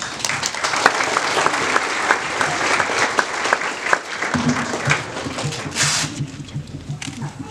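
A church gathering breaks into sustained applause, a dense, even rush of many hands clapping at once, close and strong. Partway through, voices and low murmuring rise under the clapping as it continues.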